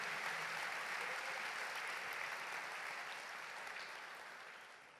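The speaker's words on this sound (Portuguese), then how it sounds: "dê um aplauso a Deus" A church congregation applauds together, producing a broad, sustained wash of clapping that carries through the hall and slowly fades toward the end.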